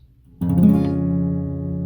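A single guitar chord played with a capo is strummed once after a short quiet moment, then rings out steadily and clearly, up close with no voices.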